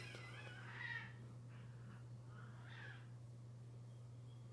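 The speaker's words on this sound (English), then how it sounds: "them cats is out there fighting." Cats fighting outside yowl and caterwaul in short drawn-out cries, faint and distant, over a steady low electrical hum.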